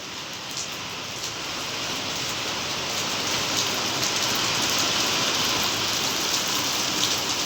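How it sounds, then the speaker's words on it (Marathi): Heavy monsoon rain pours steadily on a farm, a dense, continuous hiss of drops drumming on surfaces that grows slightly louder and stays even throughout, with no voices. "चांगला पाऊस चालू झालाय."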